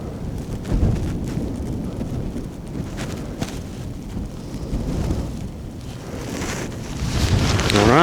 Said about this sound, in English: The wind has not died down much.